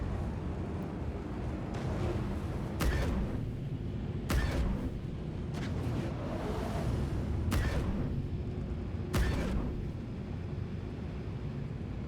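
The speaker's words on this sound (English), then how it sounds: "I'm gonna get a few cheap shots off here" Spaceship guns fire in Star Citizen PvP combat, with about half a dozen sharp, spaced shot bursts over a constant loud engine rumble.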